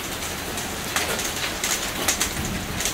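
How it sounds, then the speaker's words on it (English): Hail falling during a severe spring storm in Moore, Oklahoma, heard as a steady hiss of rain with scattered sharper impact ticks and a few louder hits, fairly close and continuous with no talking. "Last part of this storm and now I'm getting the big hail or bigger hail."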